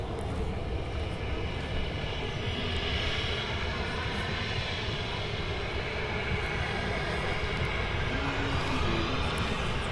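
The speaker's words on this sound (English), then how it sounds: "Ryanair just touching down here at Manchester" Ryanair airliner touching down at Manchester Airport, a continuous broad jet roar with rushing noise, steady and moderately distant throughout.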